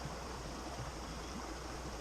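A creek choked with storm-fallen trees flows steadily, a continuous soft rushing and burbling of water with no other sounds.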